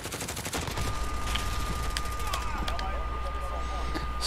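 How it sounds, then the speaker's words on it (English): Rapid gunfire bursts in Call of Duty Modern Warfare, sharp cracks repeating over a steady battle din with a low rumble and a faint whine, while someone talks over it. "So many bullets went over that guy's head right now."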